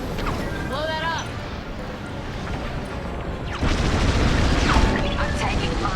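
Incoming laser fire and explosions roar in a Star Wars Squadrons space battle, steady rumbling gunfire that swells louder halfway through, with a radio voice talking over it.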